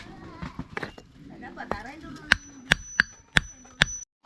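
A hammer strikes spider conch and crab shells in a series of five sharp, ringing cracks spaced about half a second apart, preceded by softer knocks and handling clatter, with someone talking nearby.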